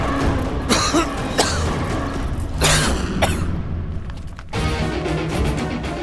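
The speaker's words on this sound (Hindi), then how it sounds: "खांसी हो रही है।" Several sharp, harsh coughs burst out at irregular intervals over a steady background murmur, fairly close and loud.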